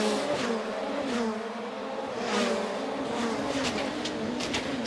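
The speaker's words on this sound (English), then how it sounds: "Train of cars coming through and over the jump." A string of rallycross race cars at a Riga rallycross event charges over a jump, their engines snarling and revving past in a loud, continuous roar with no voices.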